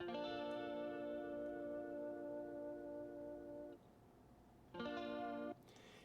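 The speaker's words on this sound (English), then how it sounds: "just this nice big strum." A big clean guitar chord rings out with a shimmering, doubled tone and long sustain, fades, then another chord is struck and held briefly.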